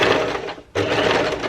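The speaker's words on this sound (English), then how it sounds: "I'm going to start right on the top, and we're just going to sew a straight stitch." A sewing machine runs a straight stitch with elastic thread, a close, loud, rapid whirring that stops briefly for a fraction of a second before resuming at the same steady pace.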